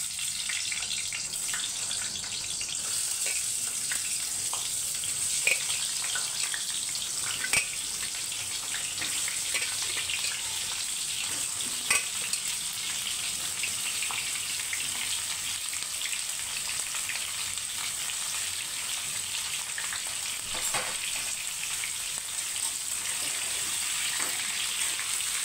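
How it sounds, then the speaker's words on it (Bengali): Pointed gourd (potol) frying in hot oil, a steady bright sizzle that holds at an even level for the whole stretch, with a few faint clicks and no voices. "তেল গরম হয়ে গেছে, এখন আমি সবগুলো পটল ভেজে নেব।"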